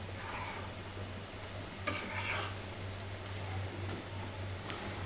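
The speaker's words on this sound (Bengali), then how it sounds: "আর এদিকে আমি আলু ভাজি করতেছি" Potatoes fry in a pan for a home-style bhaji while a utensil stirs them, giving a steady close sizzle with occasional scraping strokes and a constant low hum beneath, with no one talking.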